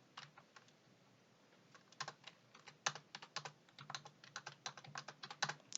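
Computer keyboard typing for an Excel spreadsheet exercise, a steady run of close, crisp keystrokes in irregular quick bursts, fairly quiet, with no voices.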